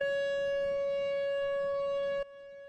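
A steady, loud siren tone holds one pitch, then abruptly drops quieter near the end as it continues faintly.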